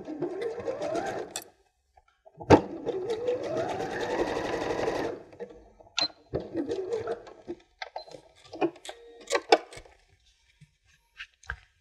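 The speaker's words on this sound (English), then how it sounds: "you can just fold in the raw edges and just zigzag stitch over the top of them" A sewing machine runs in short bursts, zigzag stitching over folded raw edges of fabric, with a longer whirring run in the middle and clicks and pauses between stitches.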